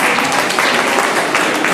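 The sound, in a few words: audience applause at school quiz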